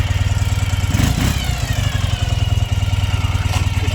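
A 2007 Ural Patrol motorcycle engine runs close and loud with a steady, throbbing low pulse, briefly rising around the middle before settling back to a lumpy idle.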